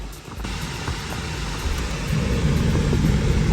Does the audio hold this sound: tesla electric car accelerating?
yes